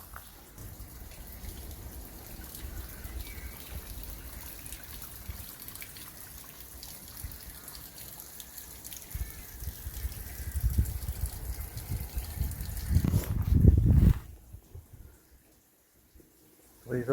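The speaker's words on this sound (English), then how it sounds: "Running water." Running water trickles steadily at a sacred healing well in a woodland churchyard, soft and continuous, swelling into a louder gush near the end before dropping away to near silence.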